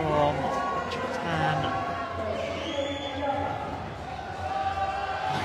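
A crowd cheers and applauds at the 2015 IPC Swimming World Championships in Glasgow, steady and reverberant in a large arena, with commentators talking over it.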